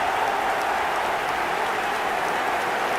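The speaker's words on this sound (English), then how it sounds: "Even some of the opposing fans are clapping that." A video game stadium crowd in eFootball applauds a Messi goal with steady, continuous clapping and a low roar, spread wide and even for the whole stretch.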